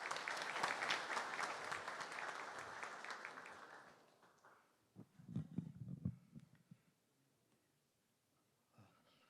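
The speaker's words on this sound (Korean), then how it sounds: "환영의 박수 부탁드립니다" Welcoming applause from the audience at Jeonju University's 2023 honorary doctorate conferment ceremony, a full, steady clapping for about four seconds that then dies away, leaving quieter scattered rustles and knocks.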